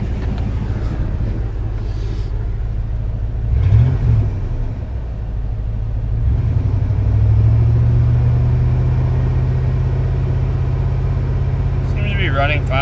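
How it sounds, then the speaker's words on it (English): A diesel pickup truck engine idles with a low, steady rumble, briefly rising as it revs before settling back to a constant drone. "The truck's running on its own."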